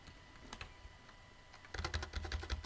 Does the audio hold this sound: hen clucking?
no